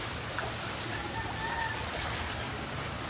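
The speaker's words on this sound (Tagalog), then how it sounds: "Doon po dumadaan yung baha oh, sa pader." Floodwater runs along a wall during a flood, a steady broadband wash of flowing water that holds evenly through the whole stretch, moderately near, with no talk over it.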